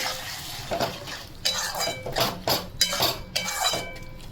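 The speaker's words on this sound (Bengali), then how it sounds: "এরকম আস্তেই আমি কষিয়ে নেব।" Chicken curry with yogurt being stirred and sautéed over low heat in a pan, a run of distinct metal spoon scrapes and knocks against the pan in an irregular rhythm over a faint sizzle, close.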